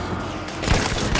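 Gunfire crackles in The Finals video game, a dense fusillade with a sharp burst mid-way and more shots trailing after, loud and close.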